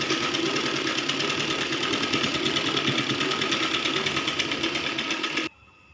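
Sewing machine stitching two layers of fabric along the side of a baby long frock, a steady fast mechanical whirr running continuously for over five seconds, then stopping abruptly near the end.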